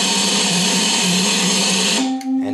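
An Oberheim synthesizer with uninitialized, garbage-filled memory plays a junk patch. A loud, harsh, steady wash of noise near the listener gives way to a buzzy sustained tone with a brief glitch near the end.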